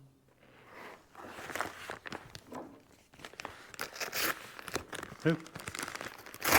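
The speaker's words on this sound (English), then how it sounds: "let's go ahead and get them unpackaged and see how they look and feel" Crinkling and rustling of plastic packaging being torn open around a pair of KEMIMOTO winter gloves, irregular bursts close by, with a brief spoken exclamation.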